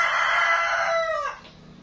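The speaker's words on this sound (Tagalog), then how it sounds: "ang ganda ng huni ng manok." A rooster crows once, close and loud, with a long drawn-out call that falls and fades at the end.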